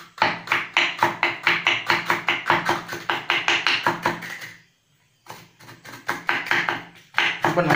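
A knife chops banana peel on a board for pakoda, giving rapid, close, even taps in a steady run. After a brief pause the quick cutting rhythm starts again.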